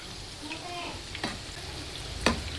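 Crispy chicken donuts fry in hot oil, giving a faint, steady sizzle with a couple of sharp ticks and pops; no one speaks.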